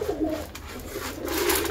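Short stretch of close, low cooing from pet pigeons at feeding time, with soft grain-mixed rustle in between, no voices.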